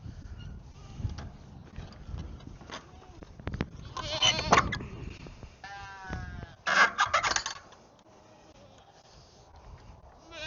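Goats bleat in short bursts on a farm, a couple of loud nearby calls amid rustling and faint background voices.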